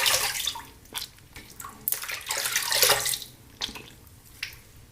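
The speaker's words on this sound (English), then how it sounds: "Rinse off." Water splashing and running at a sink while someone rinses their face after a shave with a Yaqi double-edge razor, irregular close splashes and gushes over a steady trickle, with no talking.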